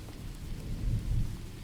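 Low thunder rumbles briefly over steady rain falling around a mountain cabin, a deep rolling swell that rises and fades within moments.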